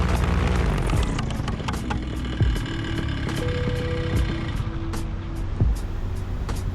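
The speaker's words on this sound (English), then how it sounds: "At this point, I heard some weird sounds coming from the engine." Bulldog paramotor engine in flight along a beach, a loud continuous droning roar with wind noise and a few dull thumps and uneven surges in the running.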